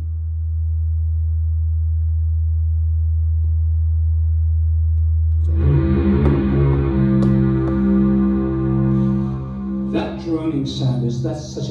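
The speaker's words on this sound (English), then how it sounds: "that's such a typical beautiful Moog sound" Analog Moog synthesizer tones enter after a low sustained hum, a loud, rich held chord with steady harmonics and slowly beating notes, then brighter accents near the end.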